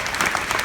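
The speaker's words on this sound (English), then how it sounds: "I want one more round of applause for our sponsors" A crowd applauds loudly and continuously, a dense wash of many hands clapping.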